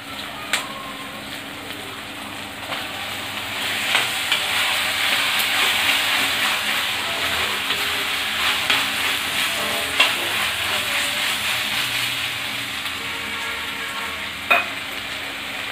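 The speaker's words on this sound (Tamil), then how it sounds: "இது கொஞ்சம் நல்லா வதங்கட்டும்" Steady oil sizzle of onions and tomatoes sautéing in a pan for prawn gravy, with occasional sharp clicks of stirring, close and fairly loud, no voices.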